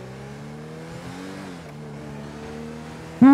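A car engine accelerating in a video game, revving with rising pitch that dips at a gear change and climbs again, loud and steady, ending in a sudden louder burst.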